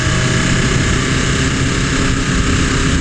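A 2020 BMW S1000RR sport motorcycle engine roars loud and steady, heard from the rider's position, with a brief dip as a quick gear shift goes through under continuous wind rush.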